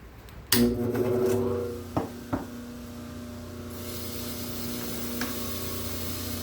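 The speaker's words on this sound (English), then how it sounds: "We're going to go to the model trimmer, turn it on again." A dental model trimmer switches on with a sharp start and settles into a steady electric motor hum, joined by a few brief clicks and a faint grinding hiss, close and fairly quiet, with no talking.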